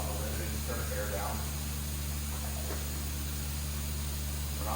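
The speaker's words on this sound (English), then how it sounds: "Don't mind that hissing noise. I got the air compressor shut off a little bit and just turn the air down." An air compressor with its air turned down gives off a steady, low-level hiss throughout, with a faint voice underneath, during a spray test of an alternative fuel.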